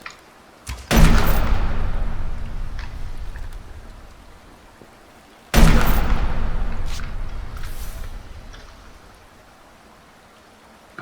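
Gunfire in the survival video game Subsistence: two loud, sharp shots about five seconds apart, each followed by a long, rumbling, echoing decay, with no voices.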